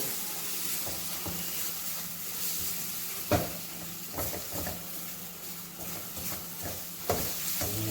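Ginger, garlic and green chilli frying in a pan, a soft steady sizzle with occasional stirring clacks and scrapes, close but fairly quiet, no talking.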